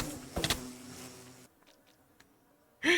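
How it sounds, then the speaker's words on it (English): Swarm of bees in the Minecraft modpack SkyT, a dense insect buzz that holds for a second and a half, cuts out to near silence with faint blips, then swells back in loudly at the end. "I was not expecting a bee flood."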